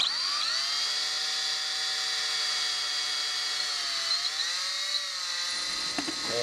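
A drill with a 1/16 inch bit bores a small hole in wood, producing a steady, shrill high-pitched whine held close and constant for several seconds. The pitch dips slightly near the end, and a few faint knocks follow.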